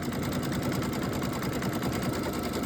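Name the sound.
embroidery machine stitching around a small fabric square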